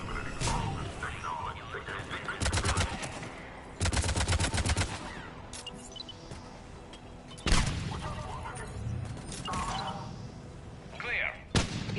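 Gunfire in the video game Mass Effect: repeated sharp bursts and rattling volleys at close range, with game voices talking between and over the shots.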